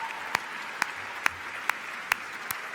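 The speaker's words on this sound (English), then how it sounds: "can I have just one more round of applause for all of tonight's champions?" Crowd applause, a steady wash of clapping with a few sharper claps standing out at a regular, almost rhythmic pace.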